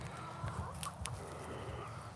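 Backyard chickens cluck in short, faint bursts at a distance over a soft, steady background, with no talking.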